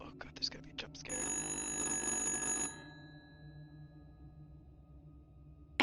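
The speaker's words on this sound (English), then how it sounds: "Answer the goddamn phone!" A telephone in the video game Little Hope gives a loud, sustained bell-like ring lasting about two seconds. Several sharp clicks come before it and quieter ambience follows.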